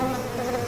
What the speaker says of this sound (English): Within seconds, the killer bees had found a new target.